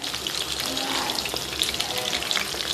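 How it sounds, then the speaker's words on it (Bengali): Chicken pakoras deep-frying in hot oil, a steady fine bubbling crackle of moderate loudness that runs without a break. "দেখো কত সুন্দর একের পর এক আমাদের পকোড়াগুলো ভাজা হচ্ছে"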